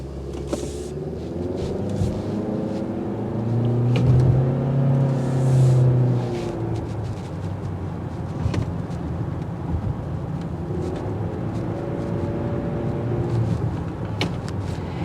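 A 2024 Honda Accord 1.5 EX accelerates on the road, its engine drone rising in pitch and building to a louder surge before settling into a steady cabin hum.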